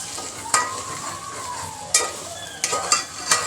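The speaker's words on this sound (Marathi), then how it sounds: "मसाला पण चांगला परतत आलेला आहे" Masala is sautéed in oil for village-style spicy mutton curry, a crackling sizzle broken by several sharp spatula scrapes against the pan at uneven intervals, heard up close with no speech.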